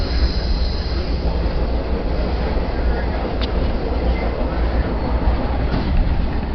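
An excursion train running on a single line of track between Springdale and Van Buren, heard from on board as a loud, steady rumble of wheels on rails with a faint squeal partway through.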